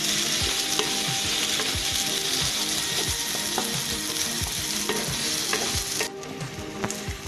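Tomatoes and onions for paneer bhurji fry in a pan with a close, steady sizzle. A spatula scrapes and taps the pan again and again in quick strokes, and the sizzle thins out near the end. No voices.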